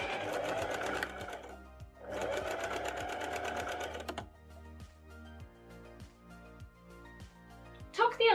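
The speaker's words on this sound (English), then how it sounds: "And then stitch the ends together with a couple of lines of straight stitching." A sewing machine stitches the overlapped ends of waistband elastic together with straight stitching. The motor whirs close by in two sustained runs, then slows into separate clicking stitches, with a brief sharp noise at the end.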